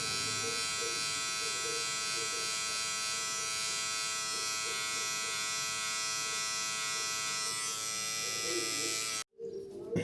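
VGR-071 electric shaver shaving hair, a steady close buzzing hum that runs unbroken for about nine seconds, then cuts out abruptly near the end.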